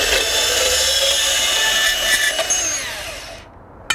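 A DeWalt DCS374 cordless deep-cut band saw cuts through 3/4 inch EMT steel conduit, making a close, steady whine with a metallic rasp for about three seconds before it stops abruptly.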